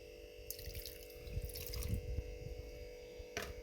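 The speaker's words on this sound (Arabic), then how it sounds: "غادي نزيد واحد شويه ديال الماء" Water poured into a cooking pot for traditional Moroccan mrouzia, a close splashing and dripping stream that swells for a couple of seconds, then a brief final splash.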